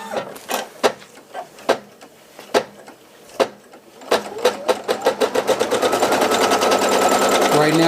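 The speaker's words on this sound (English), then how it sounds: "Right now what it's doing is our placement stitch, letting me know where I'm going to be placing my fabric right here." A home embroidery machine runs a placement stitch on fabric, starting with slow, separate needle thumps that speed up into a steady, rapid mechanical stitching rattle, loud and close.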